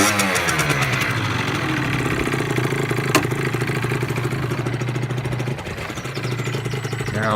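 A Yamaha RZ 50cc motorcycle idles close by, a steady, even two-stroke putter running throughout with a brief dip near the end.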